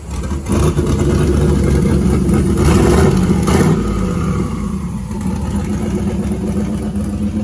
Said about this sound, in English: That turbo absolutely howls.